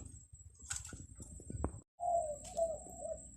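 A spotted dove, used as a decoy in dove trapping, coos close by in short mellow phrases. Around it come scattered chirps, light rustling and a brief moment of silence.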